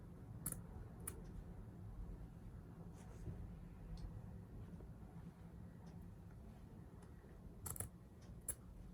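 Scissors snipping through an old t-shirt in quiet, scattered clicks and crisp cuts, a few sharp snips close up over a faint room hum, with no talking.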